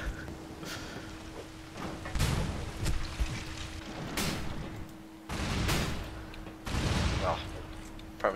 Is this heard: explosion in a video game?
yes